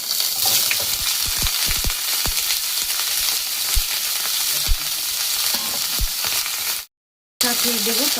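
Cauliflower pieces fry in hot oil for a mixed-vegetable khichuri, giving a steady, dense sizzle with occasional pops and crackles and a brief dropout near the end.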